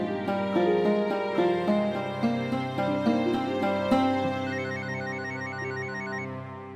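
A telephone rings with repeated bright electronic trills, loud and close, sounding alone with no voices over it.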